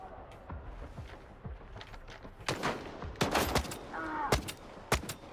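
Gunfire from an enemy shooter in Stalker 2 comes as scattered, fairly distant sharp cracks and short bursts, several shots spread unevenly across a few seconds over quiet ambient background.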